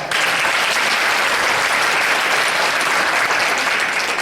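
Audience applause at a 2015 State of the District address, a loud, continuous roar of many hands clapping together, sustained evenly from start to finish.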